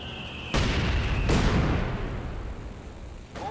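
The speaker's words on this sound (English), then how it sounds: "A mortar coming in now for Romoth." Two heavy mortar shell blasts from Company of Heroes 2 land about a second apart, each a sudden loud boom followed by a long rumbling decay, with no voices.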